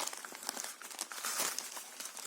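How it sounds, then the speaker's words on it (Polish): Wrapping paper crinkles and crackles steadily for a couple of seconds as it is unwrapped close by, a dense run of papery rustles with small crunchy peaks. "jakiś taki papier pakowy"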